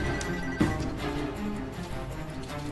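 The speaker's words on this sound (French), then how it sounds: "Il appelle, ça y est." A mobile phone rings with an incoming call in an action film scene, a steady ringing tone over a busy background of sound effects, with a short thump early on.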